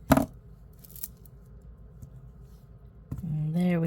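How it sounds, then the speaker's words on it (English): Scissors snip the excess thread off a labradorite bead necklace: one sharp close cut at the start and a softer snip near one second, then quiet handling before a voice begins talking at the end. "And then cut the excess off."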